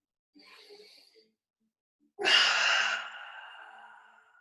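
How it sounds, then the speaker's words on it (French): Slow breathing during a yoga session: a soft inhale, a pause, then a long, loud exhale that fades gradually, close to the ear. "Inspire et expire. Inspire et expire."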